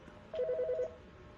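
Short electronic telephone ring in a video game: one burst of rapid warbling trill, fairly quiet, alone over a low background.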